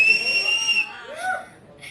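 A shrill, steady whistle holds for nearly a second, then breaks into shorter gliding whistled notes that rise and fall. It sounds fairly close and loud, with a faint murmur underneath.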